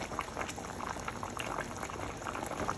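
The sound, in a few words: pouring boiling water into pot of Jamaican oxtails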